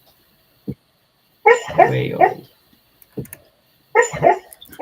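A sleeping dog makes soft whimpers and muffled yips while dreaming, in short bursts separated by silence, close by and indoors, with a few words of speech mixed in.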